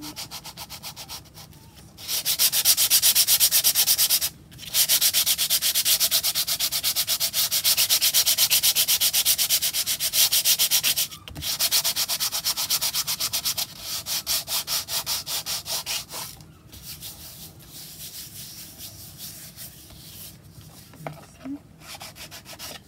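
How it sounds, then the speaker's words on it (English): A nail file rubs back and forth along the rough edges of paper, giving a steady, close, scratchy sanding sound that pauses briefly several times and thins out toward the end. "just with a nail file, just go up there and"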